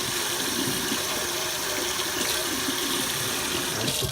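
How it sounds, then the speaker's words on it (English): Water runs steadily from a dual-handle Moen faucet after its cartridges were replaced, a continuous close gushing stream with no talking. "All right, so the water's back on properly."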